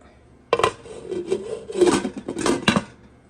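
A lid is handled and set onto a pot of cooking coconut rice, making a close series of metallic clatters and rubbing scrapes over about three seconds, with no talking.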